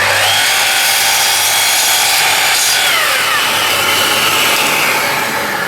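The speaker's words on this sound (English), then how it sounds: "My ears are starting to ring from all these saws." A power saw cuts through wood with a loud, continuous, close-up whine that holds steady throughout, with no talk.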